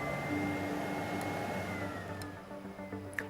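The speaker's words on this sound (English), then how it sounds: "the Comfort Clean button will light up yellow and the fine dust filter will be cleaned automatically. You'll hear this happening." A Miele vacuum cleaner running its automatic fine dust filter cleaning cycle, a steady close motor drone with tonal whine whose pitch slides down as it winds toward a lower hum, with faint clicks near the end.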